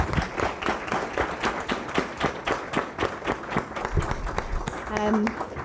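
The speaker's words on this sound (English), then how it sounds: "Can we just give all of our panellists a huge round of applause?" Audience at an International Women's Day evening event gives the panellists a round of applause, a steady patter of many hands clapping at moderate distance, with murmuring voices underneath.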